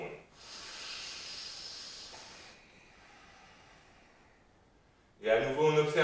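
Deep breathing during a yoga relaxation: a long, airy breath hisses steadily for about two seconds, then fades into a softer, quieter stretch before a louder burst of sound closes the moment.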